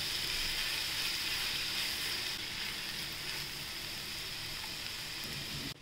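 Leftover rice tossed with garlic and coriander sizzles steadily in a hot pan, a constant, bright hiss of frying that stays even throughout, alone without talk.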